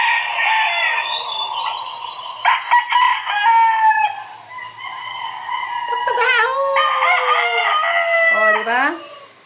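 Several roosters crowing one after another in a hometown village, loud and close with long wavering calls and a few clucks between them, alone without talk.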